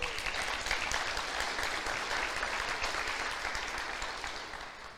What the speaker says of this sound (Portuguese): E aplauda o Senhor por isso.